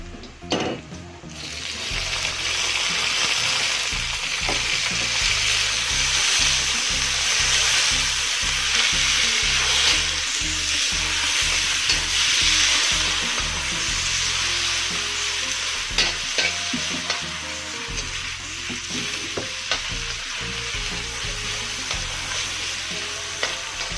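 Chopped red chili, green chili and tomato stir-frying in a hot pan with no added water, a loud continuous sizzle with scraping stirs and clinks from the spatula, close up and without speech.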